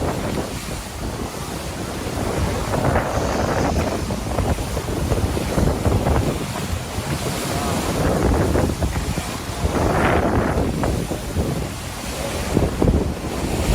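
Racing yacht Whisper under sail at sea off the New South Wales coast near Coffs Harbour during the Sydney to Gold Coast race, with constant loud wind buffeting and rushing, splashing water along the hull.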